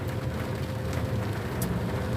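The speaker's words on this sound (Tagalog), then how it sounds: "Malakas pa rin ang ulan mga driver, malakas." Heavy afternoon rain heard from a road in the Philippines, a steady broadband hiss that holds at one level for the whole stretch with no voices over it, and a low rumble running underneath.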